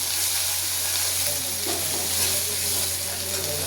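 Garlic added to hot oil already holding bay leaf, cumin and a pinch of asafoetida sizzles steadily and loudly, a dense continuous crackle with a low hum beneath, while preparing a Gujarati tindora (ivy gourd) curry.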